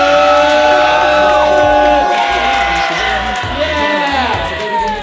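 A comedy roast battle crowd in Denver whoops, cheers and claps loudly and steadily as a competitor is introduced, with shouting voices blending into the noise.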